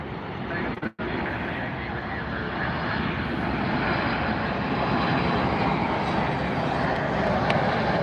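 A Southwest Airlines jet at Miami airport roars with steady broadband engine noise that holds loud and constant after a brief dropout.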